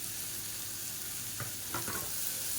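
Onion, dried red chillies and crushed garlic sautéing in a pan make a faint, steady sizzle, broken by a couple of soft stirring scrapes near the end, with no talking.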